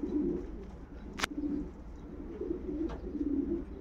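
Racing pigeon cooing in a repeated low rhythmic pattern at a loft after returning from a national race, close and moderately loud, with a brief click-like noise in between.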